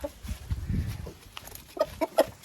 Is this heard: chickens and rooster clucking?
yes